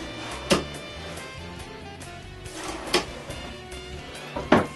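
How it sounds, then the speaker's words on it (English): Drawer slides being tested on a wooden router cabinet drawer, three sharp knocks spaced a couple of seconds apart as the drawer is pushed shut, with soft sliding rumble between them. "I just need to put both slides together and try them."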